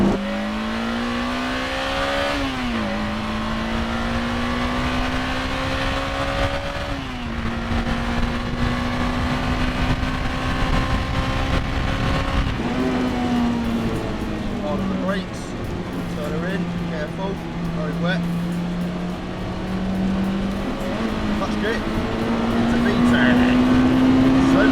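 A Honda Integra Type R pulls hard in second gear on a wet road, its engine note climbing steadily close up with short dips at the shifts. Road and tyre noise sits underneath throughout.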